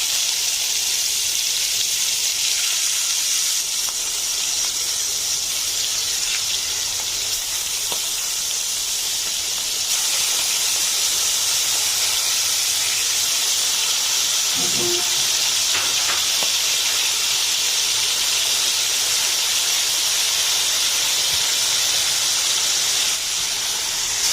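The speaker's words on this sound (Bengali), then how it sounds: "আমার তেলটাও গরম হয়ে গেছে এবার আমি চিংড়ি মাছগুলো দিয়ে দিচ্ছি" Prawns hit hot oil in a pan for prawn chow mein, giving a loud, steady sizzling hiss that runs unbroken throughout, with one brief clink partway through.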